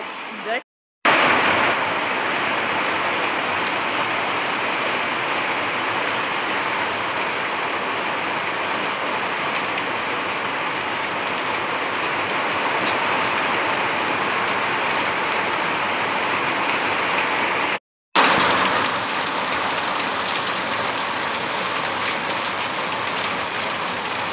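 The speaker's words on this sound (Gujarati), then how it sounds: "વરસાદ આવી ગયો છે" Unseasonal rain pouring steadily outdoors, a dense loud hiss of rainfall that continues throughout, broken by two brief silent cuts.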